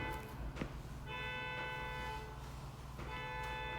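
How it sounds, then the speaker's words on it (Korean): A car alarm sounds outside, its steady electronic tone pulsing in repeating cycles with brief breaks. It carries from a distance over a noisy indoor room. "차 경고음이 울리는 것 같은데"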